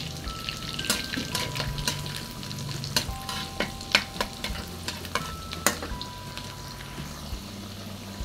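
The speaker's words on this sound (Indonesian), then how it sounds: "jika saya mau numis, siapkan minyaknya dulu." Sizzling oil crackles steadily while a utensil clatters and scrapes in a pan, with sharp knocks scattered throughout.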